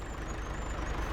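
A tractor engine idling in a farming game, heard as a steady, low, throbbing rumble up close, alone with no talking.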